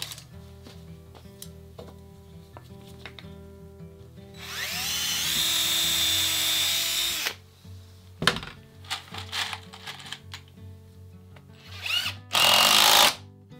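A power drill drives screws into a hard MDF boat mould, with a loud sustained whine that strains and stops, followed by scattered clicks and knocks and a second short burst of drilling near the end.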